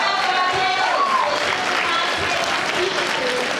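Dense, continuous applause from a breakfast event audience, clapping for the panelists, loud and even throughout with crowd noise and voices mixed in.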